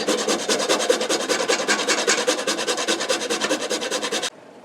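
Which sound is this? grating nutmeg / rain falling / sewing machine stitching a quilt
grating nutmeg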